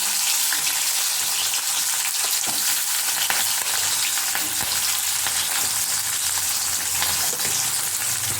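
Shallots, dried chillies and chana dal sautéing in a pan make a loud, continuous, close hiss and sizzle with occasional stirring scrapes and no speech.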